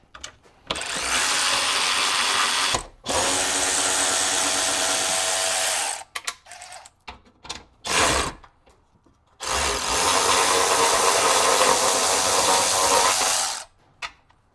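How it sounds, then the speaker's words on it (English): A DeWalt power tool whirs loudly in long sustained runs while it backs bolts out of a Jeep fender, with short taps and clunks in the pauses between runs. "I think we're gonna break them and then use our DeWalt."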